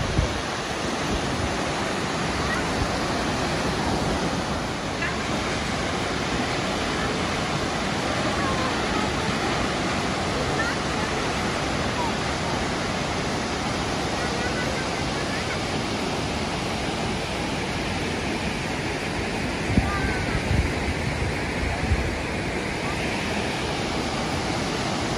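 Marokopa waterfall in New Zealand roars as a steady, loud broadband rush of falling water, continuous for the whole stretch, with faint brief sounds now and then.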